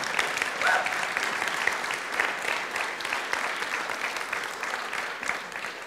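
Steady audience applause at a ReasonConf 2018 keynote, a dense wash of many hands clapping that stays fairly even and close throughout with no voices over it.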